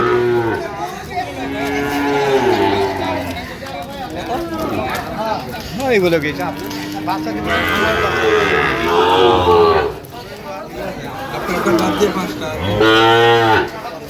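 Cattle moo repeatedly, loud and close, at a livestock market selling Shahiwal heifers, with a crowd and people talking around them.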